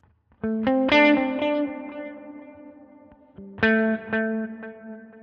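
A guitar runs through a Line 6 Helix with delay and reverb in parallel: two sets of plucked notes ring out, each followed by echoing repeats that fade into a reverberant tail.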